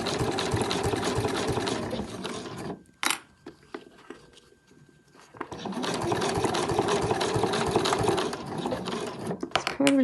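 A sewing machine stitches binding on a fabric travel wallet, running in a steady fast whirring chatter, pausing for a few seconds with small clicks and handling, then running steadily again.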